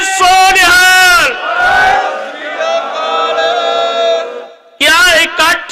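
At a Sikh gathering at Sri Fatehgarh Sahib, a crowd answers the jaikara with a loud, sustained collective shout lasting several seconds, bracketed by a strained, chanting voice at the start and again near the end.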